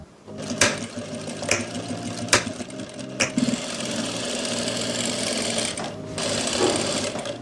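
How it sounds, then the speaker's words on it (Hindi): A sewing machine stitching the seams of an Afghani salwar, running in a close, steady whirring rattle with a few short pauses and restarts between bursts of stitching, no voices. "आपने एक तरफ की सिलाई लगानी है और दूसरी तरफ आसन की सिलाई आपने मूरी से स्टार्ट करनी है"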